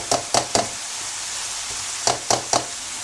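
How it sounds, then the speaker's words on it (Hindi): Vegetables for chicken spaghetti frying over a low flame, a soft constant sizzle broken by two groups of three quick stirring clacks; no voices. "हल्की आंच पे से ज़रा फ्राई करूँगी"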